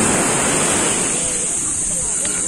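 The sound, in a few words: ocean waves crashing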